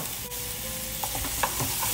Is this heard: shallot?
yes